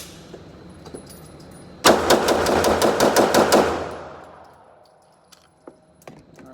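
A Glock 17 pistol, freshly built, fires ball ammunition from a KCI magazine in a rapid string of about nine loud, close shots, followed by fading reverberation and faint clinks.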